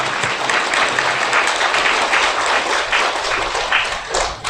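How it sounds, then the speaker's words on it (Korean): Audience applause for former prime minister Hwang Kyo-ahn at a New Year gathering, a dense, steady roll of many hands clapping that holds throughout and swells slightly near the end. "황교안 전 총리에게 다시 한번 뜨거운 박수 부탁드립니다."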